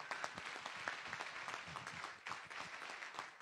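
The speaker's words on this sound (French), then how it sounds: "Des applaudissements pour cette charmante demoiselle également." Audience applause at an urban trail race event in Chaumont, a faint, distant patter of many hands clapping that swells and dips slightly over a few seconds with no clear voices.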